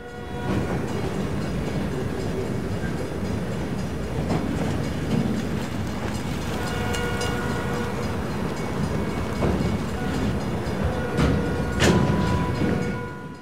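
A freight train hauling massive wind turbine components on the Rock Island line rolls past at Webb, Mississippi, a steady loud rumble of rail cars with rhythmic wheel clacks and squeals throughout.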